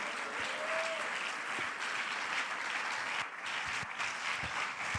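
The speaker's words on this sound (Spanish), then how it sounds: "Denle el aplauso al Señor." A church congregation claps at a Spanish-language revival service, a steady, moderately distant roar of many hands with a few sharper individual claps and thumps.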